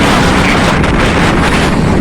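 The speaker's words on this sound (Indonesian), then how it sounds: "Anginnya kencang sekali nih, teman. Terlalu kencang anginnya." Strong wind buffets the microphone with a loud, constant roar that drowns out everything else, at a fishing spot at low tide.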